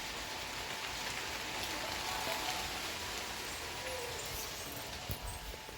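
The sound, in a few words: heavy rain falling outside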